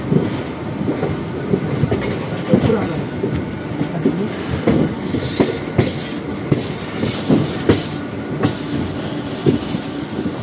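Malabar Express train running on rails between Mangalore and Trivandrum in monsoon season, recorded from inside an air-conditioned coach: steady rumble with rhythmic clickety-clack wheel beats and occasional squeals, moderately loud throughout.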